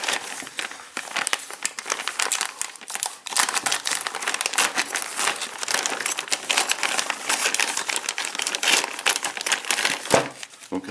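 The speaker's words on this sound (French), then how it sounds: "on va déballer les pièces" Crinkly plastic packaging being torn open and handled to unwrap parts of an Eaglemoss 1/8 scale Ecto-1 model kit, dense close crackling and rustling with small clicks, steady throughout with no talk.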